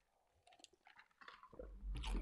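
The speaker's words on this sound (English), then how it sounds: "I'm chewing ice." Ice being chewed close up, with a few soft crunching bites and squishy mouth sounds that build louder toward the end; no talking.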